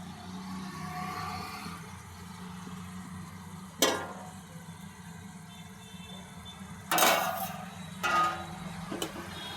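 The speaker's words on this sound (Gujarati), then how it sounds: "હવે ઢાંકણ ખોલીને ચેક કરી લઈશું કે અંદરનું જે શાક છે એ ચડી ગયું છે કે નહીં" Metal lid lifted off a pot of undhiyu, a Gujarati mixed-vegetable dish cooking with banana, yam and sweet potato, giving a few sharp clanks and scrapes over a low steady simmering hiss, heard close in a kitchen.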